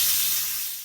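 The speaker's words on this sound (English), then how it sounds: "we're going to do the manual pressure release. You got to be careful of the steam" Steam hisses steadily from an Instant Pot's valve during a manual pressure release, a loud broad rushing spray that fades slightly over under a second.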